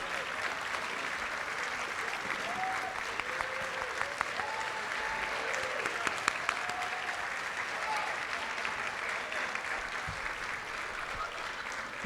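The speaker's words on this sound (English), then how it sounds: "Thank you for the round of applause for this group" At a historical society honoring event, a crowd gives steady, sustained applause for the society's board members, continuous clapping with faint voices murmuring underneath throughout.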